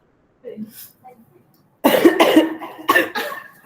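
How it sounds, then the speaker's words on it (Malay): A few sharp coughs close by, coming in quick bursts after a short stretch of quiet murmuring, during an Islamic religious lecture class. "Oh, batuk lah."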